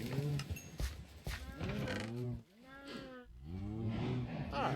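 Several cows moo in the game Minecraft, with long drawn-out lowing calls that overlap one another at moderate loudness over a faint background hum.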